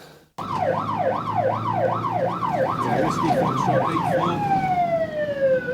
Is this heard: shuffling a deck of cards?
no